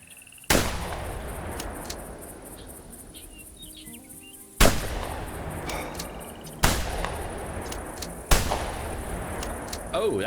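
Rifle shots in theHunter Classic, a hunting video game, four sharp loud cracks spaced a few seconds apart, each followed by a rolling outdoor echo over a steady ambient background.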